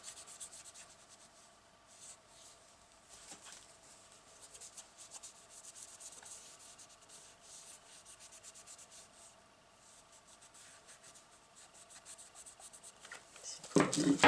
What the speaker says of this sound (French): Donc vous pouvez polir à la main.